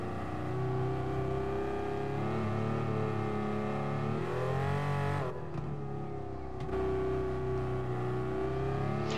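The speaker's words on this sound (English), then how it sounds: "I think this is the best sounding car in Gran Turismo, I think. Not so much the engine sound, but the dump valve and the popping" A race car in the Gran Turismo Sport racing game, its engine droning steadily with shifting pitch, a brief lift and dip partway through, then pulling hard again, loud and continuous with no talk.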